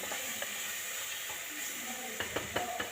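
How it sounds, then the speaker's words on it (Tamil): Ginger and garlic sautéing in a hot pan, a continuous soft sizzle and hiss with a few faint clicks and stirring taps near the end. "இப்போ இந்த இஞ்சி பூண்டு சேர்த்து நல்லா வதக்கி விடணும்"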